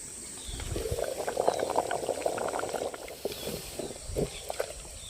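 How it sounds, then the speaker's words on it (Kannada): Curry with salt and spices bubbling in a pot, soft continuous boiling and popping close by at moderate volume, with no talking. "ಆ ಥರ ಕುದಿಸ್ಕೊಬಿಡ್ಬೇಕು ಚೆನ್ನಾಗಿ."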